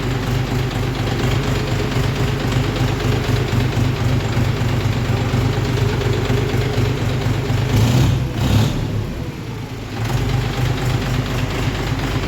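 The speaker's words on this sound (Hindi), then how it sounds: "तो ये कुछ साउंड है ट्रैक्टर का" A steady, low John Deere 5045D tractor diesel engine idles continuously, a deep rumbling drone with a brief dip near the end before settling back to the same level.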